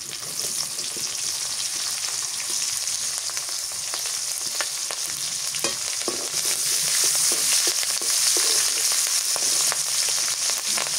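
Leafy field greens frying with garlic and green chilies in soybean oil, a loud, continuous sizzle with scattered crackles and stirring noises, and no talking.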